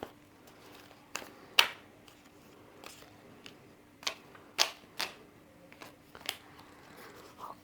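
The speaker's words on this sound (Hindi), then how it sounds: "मैं यहाँ शफलिंग ख़त्म कर रही हूँ" Tarot cards being shuffled by hand, a series of separate crisp riffles and soft slaps spaced irregularly over a quiet background hum.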